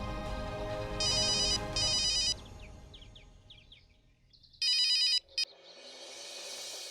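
A mobile phone ringtone plays in loud repeated bursts of tonal beeps, pausing between them, with chirpy electronic melody notes in the gaps and no talking.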